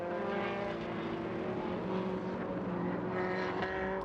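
An MRF Challenge race car, a very light single-seater of about 450 kg, runs an out lap warming its tyres, giving a steady, continuous engine drone at moderate distance with no pauses.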